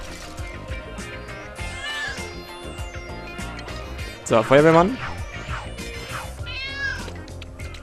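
Several cat meows from the video game Lego City Undercover rise and fall over background game sounds, with one loud, drawn-out meow in the middle; someone speaks briefly in German at the start.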